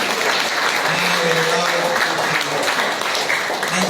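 A church congregation applauds steadily at a Christian sermon, dense clapping filling the space, with a brief tonal murmur of voices underneath.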